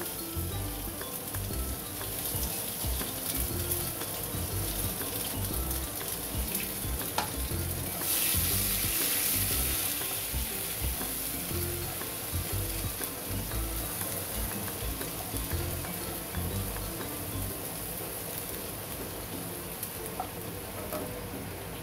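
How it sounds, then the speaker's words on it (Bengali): Crushed ginger and garlic frying in hot oil over a high flame for veg Manchurian, giving a steady, dense sizzle throughout that briefly swells louder partway through, with no talking. "এরপরে সেই আদা রসুন যে আমি ক্রাশ করে রেখেছিলাম ওইটা আমি তেলের মধ্যে ডাইরেক্ট দিয়ে দেব।"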